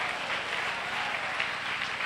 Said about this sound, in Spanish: Dale fuerte ese aplauso al Rey de la Gloria.